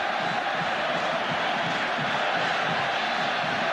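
Large crowd of Botafogo football fans roaring in a half-full stadium during a 1999 Copa do Brasil match against Flamengo, a steady dense wash of cheering with no clear breaks, heard from a distance.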